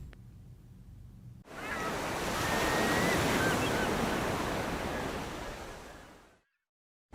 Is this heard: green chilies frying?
no